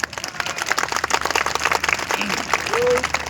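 Loud clapping from a large crowd at a Thakor Sena community convention, dense applause swelling over a few seconds with voices and shouts mixed in.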